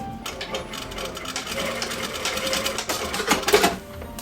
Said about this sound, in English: Then you're just going to stitch over these parts with your machine.